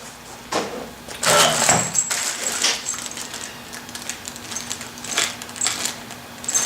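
A box of screws and fittings from a newly unpacked pressure washer rattles and clinks in bursts of small metallic jangles, close and fairly loud, with quieter shuffling between them.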